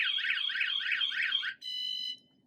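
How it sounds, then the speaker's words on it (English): A VanGuardian van alarm fitted on a side door goes off loudly, first with a rapidly warbling siren for about a second and a half, then a short steady multi-tone beep before it cuts out. "if a thief even tries touching this, it activates the alarm"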